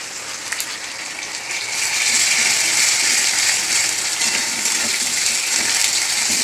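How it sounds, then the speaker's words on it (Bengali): Garlic sizzles steadily in hot oil in a pan, a loud, continuous hiss that swells after the first couple of seconds and stays bright and even with no talking. "সুন্দর করে ভেজে নিচ্ছি একটু লাল লাল করে।"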